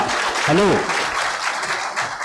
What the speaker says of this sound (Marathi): तुम्ही जोरदार टाळ्या वाजवून त्यांचं अभिनंदन करा